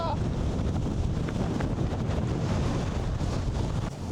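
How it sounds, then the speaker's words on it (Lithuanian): Strong wind on Madeira buffets the microphone with a constant low roar, steady and loud throughout with no voices. "Toks va vėjas."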